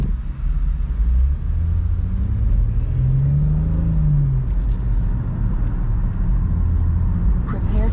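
A 2018 BMW 440i Convertible cruises on the interstate, a steady low road rumble and engine drone with a brief rising engine note partway through.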